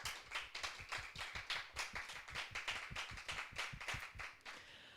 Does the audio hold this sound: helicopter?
no